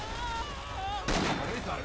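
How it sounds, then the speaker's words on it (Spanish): Two-shot bursts of gunfire in a game break out suddenly partway through, a loud cracking volley under ongoing background noise and a faint voice. "son ráfagas de 2 tiros"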